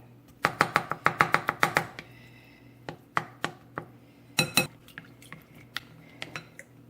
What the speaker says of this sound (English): I'm using this spoon to scoop you see the millet.